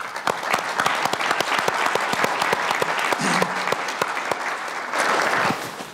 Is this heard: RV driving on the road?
no